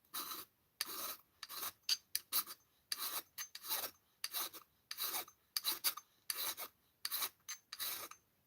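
A file rasps steadily across a wrought iron flintlock trigger guard, giving a regular rhythm of close, bright strokes with short gaps between them, alone with no talk.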